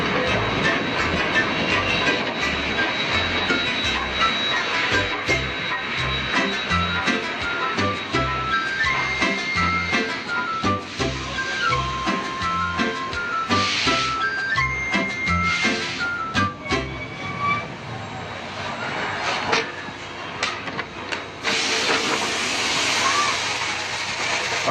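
A steam train chugs rhythmically along the rails toward Battle Creek, Michigan, its regular beats steady, with hissing bursts of steam and a faint whistle, while a voice narrates over it.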